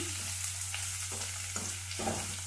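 Onions frying in a pan with curry leaves in oil, giving a steady close hiss and crackle with a low hum underneath and a few soft stirring scrapes.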